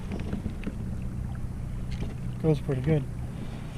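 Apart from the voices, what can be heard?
DIY kayak trolling motor running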